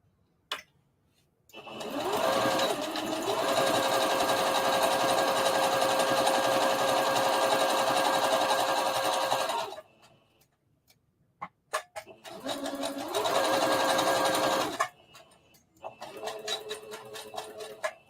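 A sewing machine stitches a pocket seam on a circle dress in long, loud, steady runs: one lasting about eight seconds, then a shorter run and a final brief burst, with quiet pauses between.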